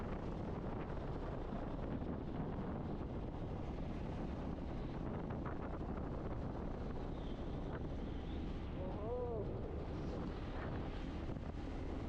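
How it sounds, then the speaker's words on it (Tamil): Strong wind blows across the microphone near the Kerala border by Thenmalai, a constant loud rushing roar with no pauses and no one speaking. "காத்து செம காத்து அடிக்குது"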